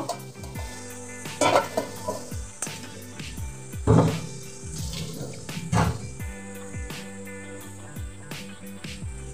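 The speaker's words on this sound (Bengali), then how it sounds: "একটু জল দেব।" Water is poured into a pan of chilli, garlic and tomato paste for steamed boal fish, a close splashing trickle mixed with metal clinks and stirring, with a faint sizzle underneath.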